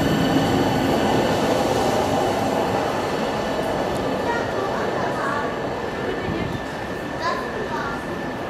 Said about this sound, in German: Am Bahnhof angekommen, fuhren 484003 und 483003 in die Abstellung.